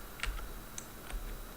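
A few sparse, quiet keystrokes on a computer keyboard tick out in an irregular rhythm during a Red Hat Enterprise Linux installation, soft and close over faint background hiss.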